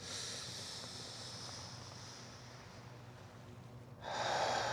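A single long exhale through the nose during a qigong routine, a soft breathy hiss held for several seconds, then a sharper, louder rush of breath near the end.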